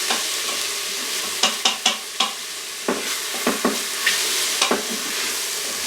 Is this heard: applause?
no